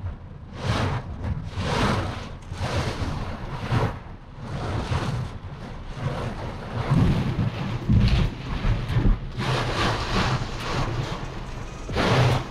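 Tropical storm wind and rain batter a camper van in Japan. Close, loud gusts surge and buffet in irregular waves, with heavy thuds and rushing noise against the vehicle. No voices.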